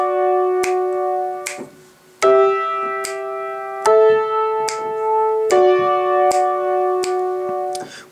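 Piano playing the verse chords of a song, with four sustained chords struck one after another, each ringing clearly and decaying slowly, over light clicks of the keys and pedal.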